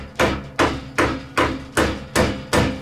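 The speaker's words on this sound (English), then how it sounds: "I'm using the hide side of a hammer just to gently" Rawhide side of a hammer gently tapping soft, annealed thick copper while flanging a boiler plate: seven evenly spaced, clear knocks about every 0.4 seconds, close and alone with no talk.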